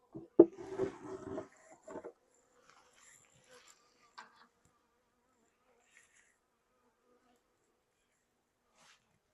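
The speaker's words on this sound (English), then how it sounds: "we may have pinched a bee because I've got one that's kind of angry at me right now" An angry honeybee buzzes close by at an open hive during an inspection, a loud burst of buzzing in the first two seconds that then drops to near silence with only faint, scattered sounds.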